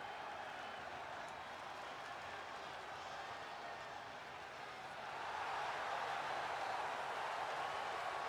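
Arena crowd in the WWE 2K26 wrestling game roars and applauds in a steady wash of cheering that swells louder toward the end as a woman wrestler is welcomed.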